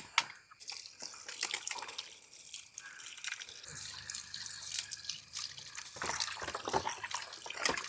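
Raw chicken pieces are rinsed under running tap water in a home kitchen sink, with a quiet trickle and splashing, occasional drips and soft handling knocks, close and low in level.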